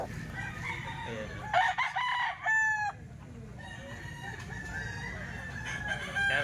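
A nine-month-old Boston Roundhead rooster from a farm crows once, loud and near, with a drawn-out rising call in the middle. Other fowl cluck and call softly around it over a steady outdoor background.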